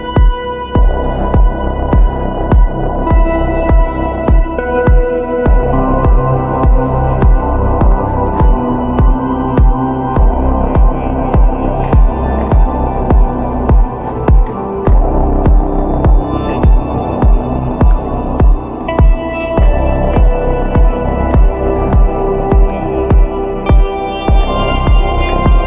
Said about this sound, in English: put like a big reverb, silver reverb here with my grandiose preset, a really big room, really trippy